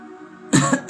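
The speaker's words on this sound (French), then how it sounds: "Voyez, je tousse." A couple of harsh, close coughs burst out after a moment of quiet, followed by a brief third cough at the end.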